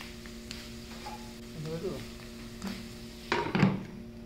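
A lid is set over a cooking pan of mushrooms with a short metallic clatter near the end, after quieter handling noises over a low steady hum.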